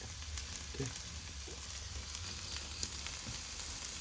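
Boneless Boothai fish frying in coconut oil in a pan, a steady close sizzle with crackling pops that continues without a break and has no voices over it.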